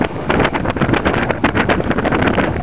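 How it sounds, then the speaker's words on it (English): Strong wind buffets a small boat at sea on a wet, rough day in the Everglades Challenge, a loud continuous roar of gusts and rushing air with no speech. "Very wet and windy day."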